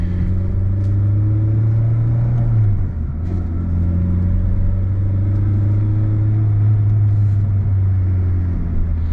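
Car driving through downtown, a steady low engine drone heard from inside, with a brief dip in pitch as it shifts gear before the hum continues evenly.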